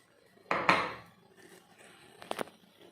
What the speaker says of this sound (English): Now you add these shredded chopped chocolates, the milk compound. I'm putting it into this bowl.